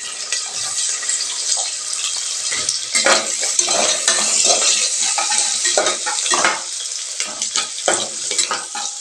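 One large onion frying in hot oil with whole spices for veg pulao, a loud, close, continuous sizzle with frequent stirring scrapes and clinks of a metal utensil against the pan.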